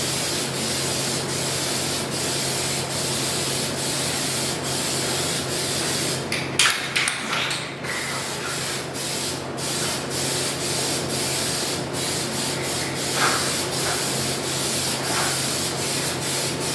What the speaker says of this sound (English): I was just spraying on the spray card.